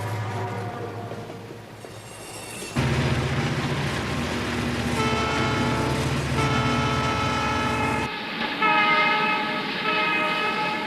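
Heavy rumble of a Southern Pacific freight train pulled by five diesel locomotives climbing toward Donner Pass in the Sierra Nevada, with loud, sustained horn blasts sounding over the rolling engines, shifting pitch between sections.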